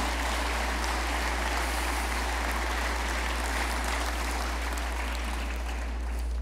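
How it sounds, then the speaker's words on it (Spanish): Dense, sustained applause from a church congregation after a talk on teacher preparation, a steady wash of many hands clapping at constant loudness without pause and no voice over it. "Fuerte aplauso"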